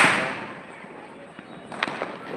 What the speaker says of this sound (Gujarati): ફટાકડા ફૂટી રહ્યા છે અને રોકેટ ચડી રહ્યા છે